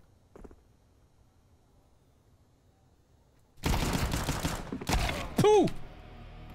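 Video game gunfire: after a quiet stretch with a faint short burst, loud rapid shooting erupts in two dense volleys, followed by a ringing, swooping tone.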